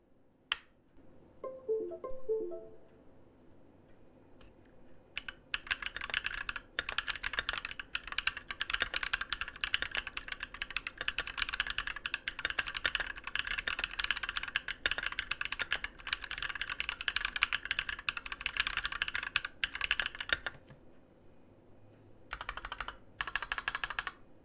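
Typing on a Massdrop ALT mechanical keyboard fitted with Polypanda non-clicky tactile switches, a dense run of crisp, close keystrokes in a quiet room, with a few isolated taps at the start and end.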